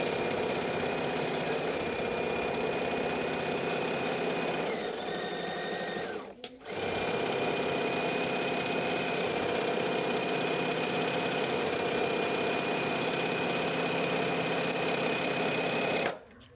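A sewing machine runs close and steady while top stitching the side seams of a tote bag, its rapid even hum continuing at length, with one short break midway and a stop at the end.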